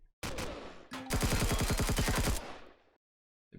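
Turrets open fire in the Empyrion Galactic Survival space game, a rapid burst of automatic shots following an initial blast, loud and close, then cutting off into silence.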